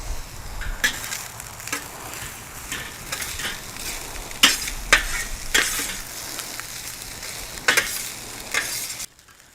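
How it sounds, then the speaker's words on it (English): Hibachi fried rice seasoned with garlic sizzles on a hot griddle, with a steady frying hiss broken by repeated sharp scraping and stirring strokes of a metal spatula, then stopping abruptly. "now that our rice is cooking up really well, starting to see a few pieces of the rice that are kind of popping up a little bit"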